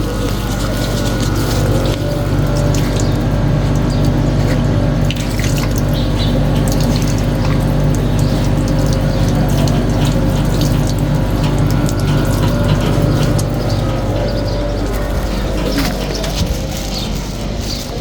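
Chilled drinking water gushing steadily from taps at the Ramdevpir temple in Navu Ranuja, a loud continuous splashing rush that fills the whole stretch, with crowd murmur and birds faint in the background.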